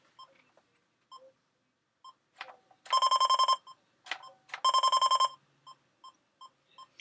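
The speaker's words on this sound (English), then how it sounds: "And also that beeping noise gets faster and faster." A 1980s Lazer Tag toy gives off short electronic beeps, then two loud bursts of rapid repeated beeping when hit, with sparse quieter beeps before and after in an otherwise silent room.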